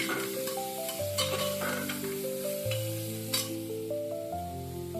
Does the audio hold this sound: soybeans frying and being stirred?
yes